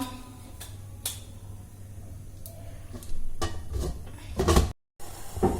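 A lid set over a pan of cooking elayada-style batter, with a few light metallic clinks and scrapes over a low kitchen hum, closing with a louder rattling clatter, close by and with no talking.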